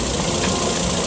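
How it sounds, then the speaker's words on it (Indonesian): A 2015 car engine idles with a smooth, steady, even hum, close by, with no talk over it. "untuk suara mesin itu kita matiin dulu ya untuk suara mesin"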